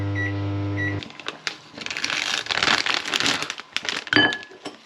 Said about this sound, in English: That's why I'm going to put it in the microwave.